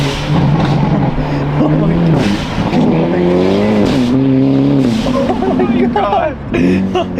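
Hyundai Elantra N engine revving hard with turbo blow-off valve whooshes, loud and close, rising and falling pitch in repeated pulls, with people talking over it.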